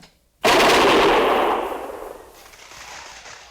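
Rifle volley fired on command in a frontier fort setting, a single loud simultaneous crack from several guns at once, followed by a long rolling decay that fades over about three seconds.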